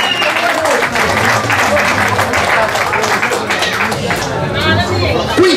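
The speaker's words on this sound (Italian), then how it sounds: "Applausi signori, non siamo a un licenziamento, siamo a una premiazione." An audience claps at a slalom race award ceremony, with sustained applause mixed with crowd chatter and a loud announcer voice over it.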